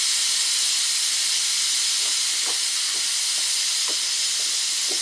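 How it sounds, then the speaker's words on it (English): Steam hisses loudly and steadily from a pressure cooker being rapid-released while chicken fries, a continuous close hiss with a few faint knocks under it. "Let our pressure out, rapid release."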